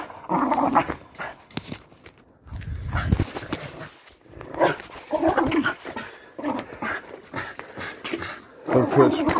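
A Patterdale terrier growls and tugs during tug-of-war training, with bursts of growling and huffing close to the microphone. Short pauses break the bursts, and people talk intermittently over them.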